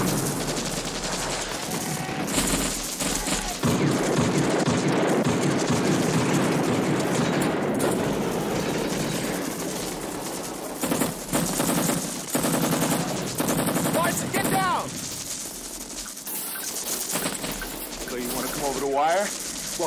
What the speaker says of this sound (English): We're under heavy fire here.